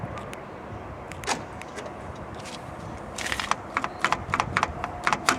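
Door locks of a Toyota Celica GT-S locking via key fob with a VIP RS3200 system, a faint click early on, then a cluster of quick mechanical clacks and thumps near the end over background hiss.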